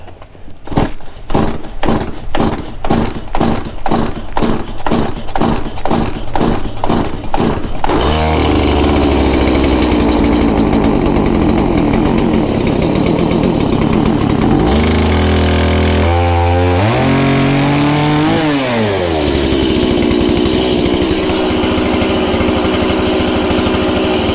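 Stihl MS170 chainsaw, a small saw, is pull-started with a string of rhythmic starter-cord pulls and then roars into a loud, close, steady idle, with the engine pitch dipping and rising briefly partway through.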